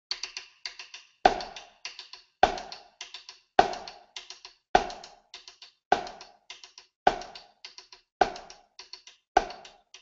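Drum practice with a light, steady ticking ostinato on a drum or pad, and louder half-note hits landing at regular intervals on top, dry and close.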